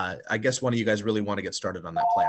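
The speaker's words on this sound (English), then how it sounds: "Pardon my phone ringing." A phone rings with a steady electronic tone near the end, underneath someone talking over it in a home-buying discussion.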